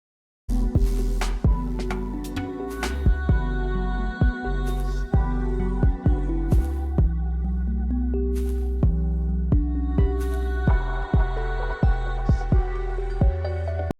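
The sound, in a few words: shaker-like sound in a Serum 2 synth preset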